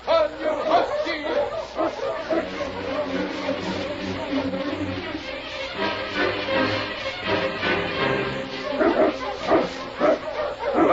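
Husky sled dogs led by a lead dog named King bark and yip excitedly in a noisy, overlapping chorus, close and loud, with voices talking over them.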